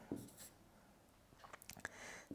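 Faint marker or chalk strokes on a board while working a Class 10 maths problem on real numbers, quiet scratchy taps and short scribbles in a hushed room, with no talking.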